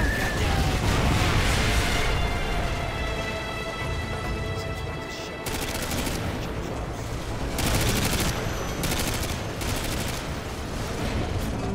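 Dense artillery fire in Call of Duty Modern Warfare 2, rolling booms and rapid gunfire blasts layered into a loud continuous barrage with recurring bursts.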